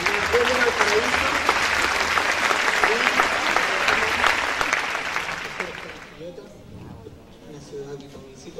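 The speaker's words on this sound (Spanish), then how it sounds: "Yo quiero que lo recibamos con un caluroso aplauso" Warm applause from a school audience fills the room for about six seconds, a dense run of claps under a speaking voice that then fades to scattered claps and quiet.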